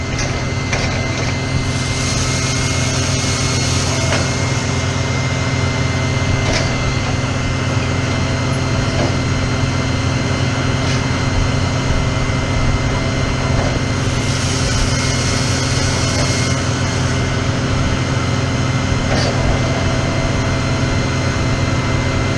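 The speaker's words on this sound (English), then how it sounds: "So the tractor and the wagons, they pull up on the scale here" A heavy tractor engine, pulling wagons onto a weighing scale, drones at a constant, loud pitch throughout, rumbling low and steady with no breaks or changes.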